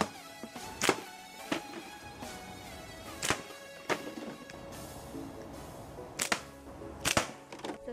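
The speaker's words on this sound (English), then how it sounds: "Now I'm going to shoot the stronger target shooting slingshot with 15mm steel ball bearings." A strong target-shooting slingshot fires 15mm steel ball bearings, giving sharp, fairly faint snaps and impacts spaced a second or more apart over a steady low background.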